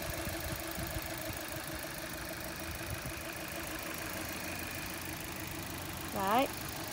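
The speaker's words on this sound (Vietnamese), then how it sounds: "Máy nổ rất là êm phải không ạ?" A 2011 Chevrolet Orlando with a 1.8 petrol engine and manual gearbox idles smoothly, a low steady hum that stays quiet and even throughout, with a brief rising tonal sound near the end.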